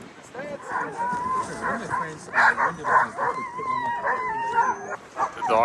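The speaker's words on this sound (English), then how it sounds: "The dogs are so excited already." Excited sled huskies bark, yip and howl together outdoors in winter Finland, a dense overlapping chorus of rising howls and sharp barks at close range throughout.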